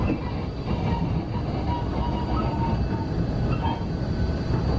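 A Bombardier Innovia 300 monorail train on São Paulo Line 15 rumbles steadily from the inside, with a continuous loud rolling drone and faint high whines running through the whole stretch and no talking.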